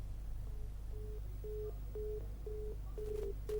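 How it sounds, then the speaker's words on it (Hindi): Telephone busy tone on a cut-off phone line during a news broadcast link: a faint steady series of short evenly spaced beeps over a constant low hum, with no voices. "उनका हमारा जो फोन लाइन है वो कट गई है"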